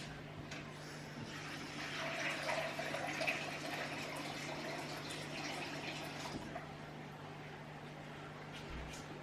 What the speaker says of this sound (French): je prépare aussi pour après de l'eau froide dans mon saladier